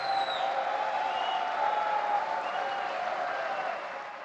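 A crowd at an event in Delhi's Thyagaraj Stadium claps loudly and continuously, a thick even roar of hands with faint cheering, tapering off slightly at the very end.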